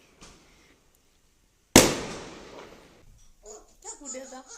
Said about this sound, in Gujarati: ફટાકડા